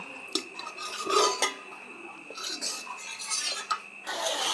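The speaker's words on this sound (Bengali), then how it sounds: "এবার আমি আবারও একটু ঢাকনাটা দিয়ে ঢেকে দিচ্ছি" A metal lid is set onto a cooking pot of potato curry being made, making a few close clinks and scraping metallic rattles, with soft kitchen handling noises between them.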